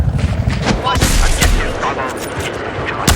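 Rapid gunfire in Battlefield 4, with loud, close bursts of shots cracking in quick succession and crowding together into dense volleys across a few seconds.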